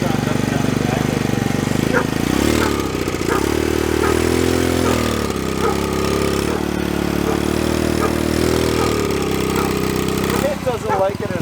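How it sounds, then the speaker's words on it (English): A 50cc GY6 scooter engine with newly fitted clutch springs runs continuously on a driveway test run, a close buzzing drone that rises and falls in pitch, with a sharper rev near the end. "give us some test runs up and down the driveway"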